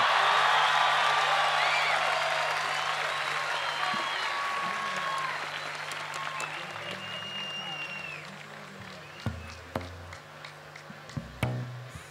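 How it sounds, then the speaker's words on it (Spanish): Audience applause for a folk dance group at the 53rd National Folklore Festival in San Bernardo, a dense, steady wash of clapping that gradually thins and fades, with a few scattered claps and taps near the end. "saludamos con este cariñoso aplauso al grupo Los Cheritas de San Bernardo."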